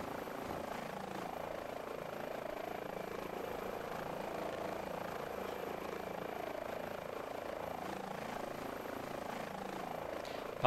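A simulated helicopter in a flight simulator game, heard as a steady, continuous rotor and engine drone at moderate level that holds unchanged throughout with no voices.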